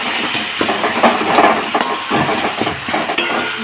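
Ginger-garlic paste cooked down with onion and tomato in a pan gives a steady close sizzle with soft scraping stirs, alone with no talk.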